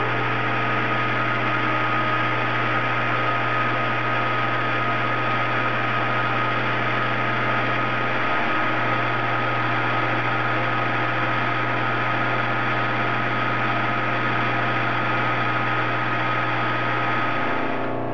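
Steady machine drone of a metal lathe running a slow, shallow finishing cut on a rifle muzzle brake, continuous and fairly loud with a constant hum throughout and no talking.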